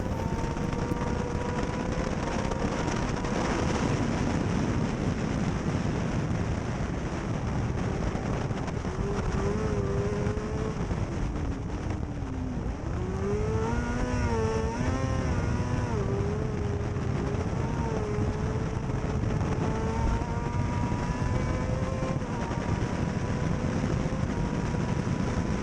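British F2 racing sidecars lap Croft circuit, their engines droning steadily with rising and falling pitch sweeps as the outfits pass and change gear, accompanied by constant wind rush and no voices.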